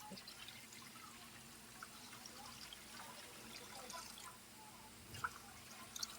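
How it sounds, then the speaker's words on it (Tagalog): Water poured into a cooking pot with vegetables, a faint trickle and drip against a quiet room hum, with a few small clinks. "Maglagay tayo ng tubig."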